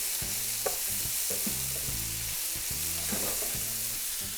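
Mushrooms sizzling as they cook down in a pan, a steady bright frying hiss, with intermittent stirring knocks and scrapes layered over it, close and continuous with no talking.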